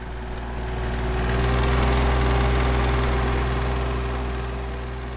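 A tractor engine idles steadily at a Greek Orthodox monastery, a loud, continuous low rumble with a strong hum that swells slightly and then eases, with no voices over it.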